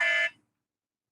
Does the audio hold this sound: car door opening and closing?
no